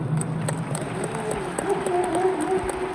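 A fan meeting crowd applauds continuously, dense clapping with cheering voices rising through it.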